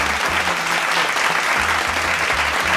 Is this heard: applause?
yes